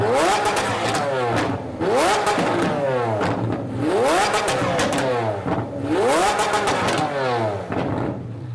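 A modified Lamborghini Aventador supercar from SB Race Engineering revs hard again and again, four loud rising engine sweeps that each fall back in a regular rhythm, close and strong.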